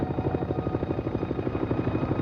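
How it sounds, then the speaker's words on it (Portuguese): Steady rhythmic thudding of a Navy helicopter's rotor blades, a continuous beating chop at moderate volume with no voices. "vai direto ao local do acidente em um helicóptero da Marinha"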